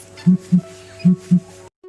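A crowned pigeon gives deep, booming whoops in two pairs, low and resonant, with short pauses between each pair against a quiet background.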